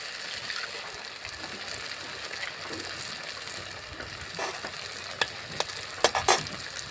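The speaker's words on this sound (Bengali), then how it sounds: "এবারে ডিম দিয়ে খুব ভালো করে আবার আমি ভেজে নেব" Two eggs frying with tomato in a pan give a steady, close sizzle, with a few sharp clicks of a utensil near the end.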